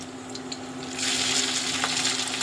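Cashews and raisins fry in a pan with a soft crackling sizzle that grows louder partway through, mixed with the light scrape of stirring.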